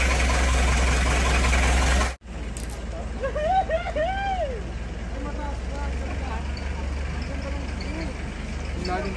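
A motorcycle engine idles steadily throughout, a low continuous drone, with talking over it after a brief cut near the start.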